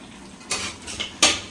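Soaked rice is tipped through a filter in a home kitchen, giving a few short clattering rattles of grains and metal vessel in three quick bursts over a quiet background.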